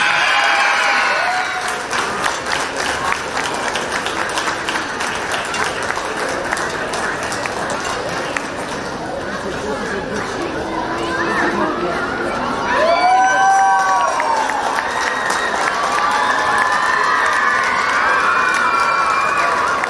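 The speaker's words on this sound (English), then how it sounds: "A loud cheer for our sports captain, Janvi Jain" Crowd at a primary-section school sports meet cheering and applauding as the sports captain receives a trophy, a steady wash of clapping and children's shouts that swells again near the end, with voices mixed in.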